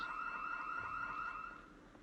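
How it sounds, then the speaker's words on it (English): A car alarm in Project Zomboid blares a steady electronic wail at moderate distance, then cuts off and fades after about a second and a half. "thankfully it was a fairly short alarm"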